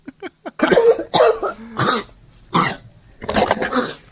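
A man coughs near the microphone, several short sharp coughs at first followed by longer, heavier hacking bursts with pauses between them.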